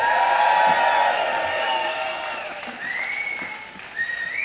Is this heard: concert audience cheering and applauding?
yes